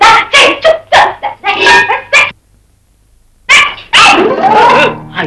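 A dog barks loudly and close in a rapid string of sharp yelps, falls silent for a moment, then barks again with whining, whimpering tones.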